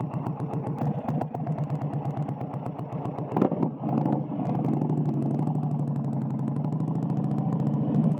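A motorcycle rides along, heard through an LS2 Advant X helmet with the chin bar flipped up: a close, loud engine with rapid pulsing firing that settles into a steady roar with rushing wind noise.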